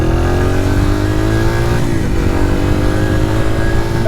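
A 1994 Honda XR100R motorcycle engine revs steadily while ridden, a loud, close, continuous mid-pitched drone whose pitch climbs, dips briefly as it shifts gear, then climbs again.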